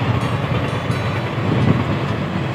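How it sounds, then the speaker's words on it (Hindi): A train rumbles steadily along railway tracks close by, a continuous low roar with faint wheel clatter lasting throughout, with no talking. "उधर से रेल जा रही है"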